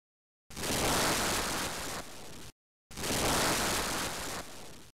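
Deep, steady Brownian noise, a low rushing hiss, plays in two separate bursts of about two seconds each, broken by a short silence.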